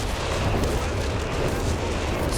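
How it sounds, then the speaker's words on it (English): A creeping artillery barrage in Company of Heroes 3 keeps up a continuous, heavy roar of overlapping shell blasts and rumbling booms, loud and unbroken throughout with no gaps. "Is that the creeping barrage again?"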